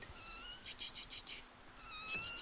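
Close, high-pitched mewing of a kitten shut in a boat cabin in quick repeated cries, several short squeaks clustered together and then another drawn-out mew near the end.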